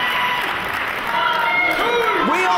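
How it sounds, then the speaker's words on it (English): A wrestling crowd at the Liverpool Olympia applauds, steady clapping and cheering filling the hall while a commentator talks over it. "this crowd applauds again at Jonny Storm and Jody Fleisch at the Liverpool Olympia"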